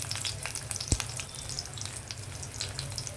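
Garlic fries in hot oil in a pan for a ridge gourd fry, giving a close, steady crackling sizzle with one brief sharp knock early on and no voices.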